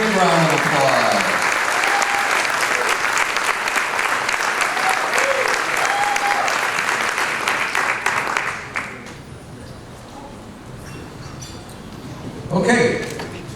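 Audience applause at a school awards ceremony honoring a Stepfather of the Year essay winner, steady and full for about nine seconds, then fading out into quiet room noise with a brief stir near the end.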